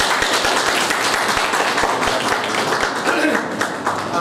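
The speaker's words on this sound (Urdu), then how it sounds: "بائبل کے لیے تالیاں بجائیں" A church congregation claps for the Bible, crisp rapid handclaps close by over a continuous bed of crowd noise, with voices mixed in.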